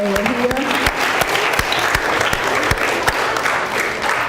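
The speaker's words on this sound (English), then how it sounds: "let's give her a round of applause" An audience at a school visit from the mayor breaks into sustained applause, dense clapping from many hands holding steady throughout with a few sharper individual claps near the front, with no talking.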